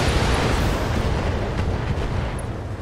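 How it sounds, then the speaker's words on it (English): Gauss rifle alpha strike in BattleTech, a dense, booming blast that fills the whole moment with heavy rumbling impact and roar, loud and sustained without talk. "Targeting for an alpha strike. This with the Gauss rifle, of course."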